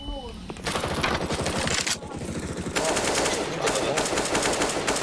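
Rapid bursts of automatic gunfire from a CS:GO match, loud and continuous with brief gaps, with a player's voice talking over the shooting.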